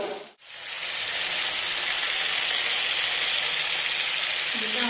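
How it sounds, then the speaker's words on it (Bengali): Pieces of rohu fish fry in hot oil in a pan, giving a steady, close, loud sizzling hiss that holds throughout after a brief dip at the start. "দেখুন মাছ ভাজা চলছে এখনো।"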